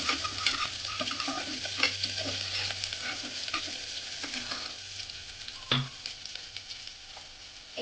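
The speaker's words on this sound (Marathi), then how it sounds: "आता टाकून लसूण टाकून घेऊया चार ते पाच लसूण पाकळ्या" Four to five finely chopped garlic cloves frying in a pan of oil, a steady close sizzle with scraping stir strokes and a sharp clink near the middle, no voices.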